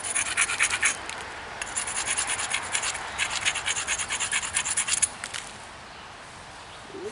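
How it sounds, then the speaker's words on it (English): An obsidian edge is ground against a sandstone grinder in rapid rasping scratches, steady back-and-forth strokes close and clear before stopping near the end. "The sandstone grinder works good, but it kind of gets bound up with dust after a while."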